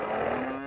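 A single cow moos in a video game, a short, close, low drawn-out bellow with a steady tone and no talk over it.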